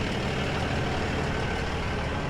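A rollback tow truck's bed moves on a roadside during a wheel-less Audi recovery, with a steady engine and hydraulic drone running evenly and moderately loud, without a break.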